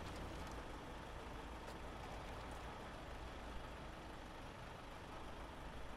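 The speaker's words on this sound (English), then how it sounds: "It's not making any noise other than the running truck" A truck engine in the game SnowRunner runs steadily throughout, a constant low rumbling drone with no voices, holding at a moderate level from start to finish.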